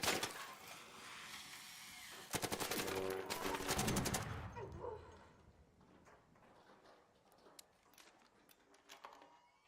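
Rapid automatic gunfire in the Arc Raiders video game, a loud sustained burst of dense shots that cuts off abruptly, followed by quieter scattered game sounds and faint ambience.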